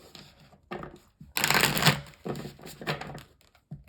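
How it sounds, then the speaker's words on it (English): Tarot cards being shuffled up close, a few rapid riffling bursts, the longest and loudest in the middle, separated by brief pauses, with no talk. "We're going to shuffle the cards a few times and then get straight into it."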